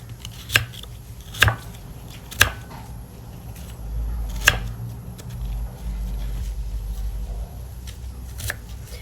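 A knife chops guava fruit into small pieces on a board, with several sharp, separate strikes at an uneven pace and quieter scraping between them.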